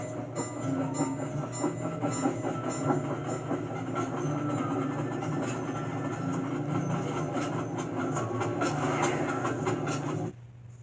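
A moving train in the video game Sly 2 rumbles along steadily with rhythmic rattling and metallic clatter, loud and continuous until it cuts off abruptly near the end.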